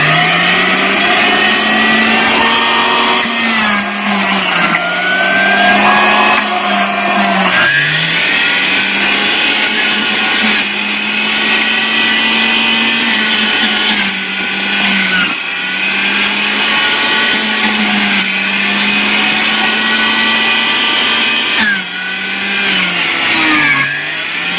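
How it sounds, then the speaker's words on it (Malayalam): An electric juicer runs continuously, extracting fresh pineapple juice for a homemade pineapple jelly dessert, its loud motor whine steady throughout with brief pitch dips as the load shifts, and no talking. "ഞാൻ ഫ്രഷറാണ് എടുത്തിട്ടുള്ളത്, ജ്യൂസ് ഫ്രഷറാണ് എടുത്തിട്ടുള്ളത്"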